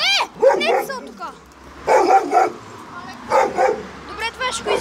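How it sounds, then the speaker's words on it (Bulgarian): A big dog barks loudly and close by, several sharp barks and yips in bursts with whimpering, with people talking in between. "Бати голямото куче."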